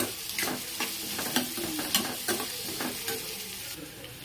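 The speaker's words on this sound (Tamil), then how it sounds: "அடுத்து நம்ம உருளைக்கிழங்குக்கு தேவையான வெங்காயமும் கருவேப்பிலையும் இதில் போடுவோம். வெங்காயம் கொஞ்சம் நேரம் நல்லா வதக்கணும்." Onions and curry leaves sauté in a pan for a potato masala, a steady close sizzle broken by repeated scraping stir strokes, with no voices.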